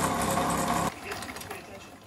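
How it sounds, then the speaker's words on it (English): A sewing machine sewing curtains runs with a steady mechanical whir for about a second, then stops, leaving quiet room noise. "Sewing curtains."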